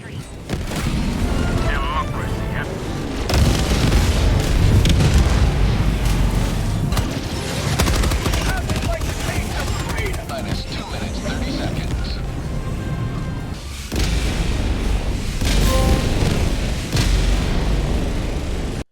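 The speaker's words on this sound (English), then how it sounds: "Totally rad explosions." Heavy booming explosions and rolling blasts from the video game Helldivers 2, loud and nonstop, with a deep rumbling roar filling the whole stretch.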